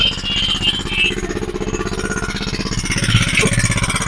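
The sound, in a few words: petrol-powered 1.5 inch water pump engine running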